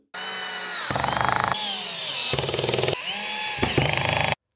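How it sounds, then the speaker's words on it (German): A cordless screwdriver set to torque level 5 drives screws into an IKEA Alex drawer unit, its motor whirring loudly in several bursts separated by brief pauses, with ratcheting clutch clicks at the end of each run. "mit einem Akkuschrauber, den ich relativ gerne für den Möbelaufbau auf Drehmomentstufe 5 stelle"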